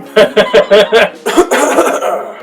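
A rapid burst of several short coughs in a row, close and loud, followed by a rougher, drawn-out breathy exhale.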